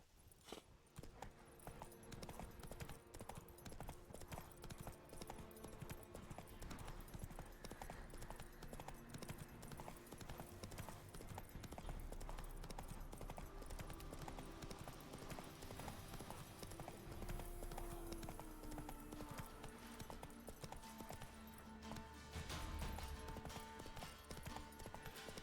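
Hooves of the horse in the video game Witcher 3 gallop in a rapid, steady clip-clop rhythm, loud and continuous throughout, with the game's ambient sound running underneath.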